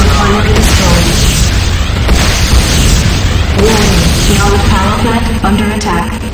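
Booming building explosion as a Nod Tiberium Refinery is destroyed in the game Renegade, a loud sustained roar of blasts and rumble filling the whole stretch, with game voice announcements over it.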